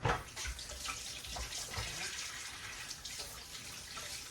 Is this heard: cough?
no